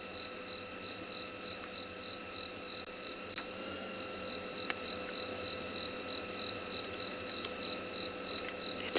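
Crickets stridulating on a summer night near a dam in South Africa, a continuous shimmering high-pitched chorus with steady pulsing trills and a few brief clicks, no voices.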